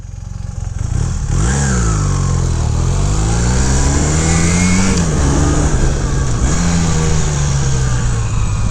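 A 1981 Honda CM400T motorcycle engine revs hard up close during a ride, climbing in pitch through several gears with brief dips between shifts, loud and continuous.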